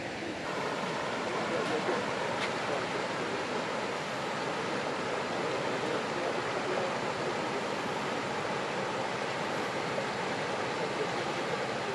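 Steady, broadband rushing of the Kuspara river fills the whole stretch, constant and fairly close, like water running over rocks.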